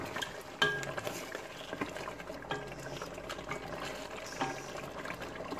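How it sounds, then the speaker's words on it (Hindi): Half a cup of oil poured into a pot for frying potato mutton curry (degi aloo gosht), a steady close liquid splash with clinks of a utensil against the pot running throughout. "अब हम इसमें ऑयल ऐड करते हैं ताकि हम इसे भून लें"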